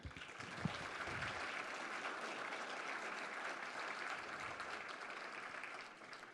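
An audience applauds steadily at the 2016 Northern Kentucky University alumni awards for the evening's honorees, a dense and sustained wash of clapping that carries through the clip and eases slightly near the end.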